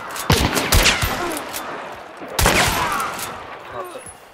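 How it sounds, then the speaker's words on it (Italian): Gunfire in the video game Hunt: Showdown, coming from behind: a few sharp shots around the first second, then another burst near the middle, with scattered cracks and rustling in between and no talk. "Ho visto che hanno sparato da dietro."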